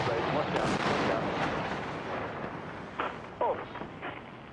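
Large bombs exploding over Baghdad at night, a deep rumbling blast that rolls and fades, followed by several sharper distant booms and thuds.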